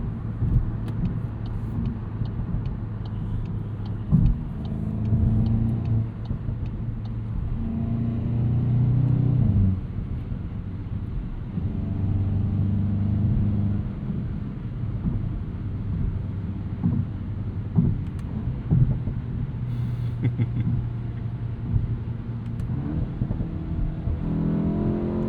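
A 2026 Volkswagen Golf GTI S MK8.5 hot hatch is heard from inside while driving, a steady low engine and road drone with gentle swells of revving and some wind noise, no talk.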